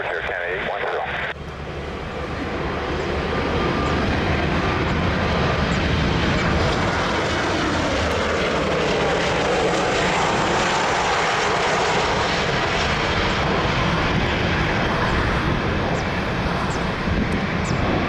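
An Air Canada airliner approaching runway 02 at Lisbon Airport, its engines a loud, sustained roar that swells after the first seconds and holds steady, with a voice audible beneath the noise.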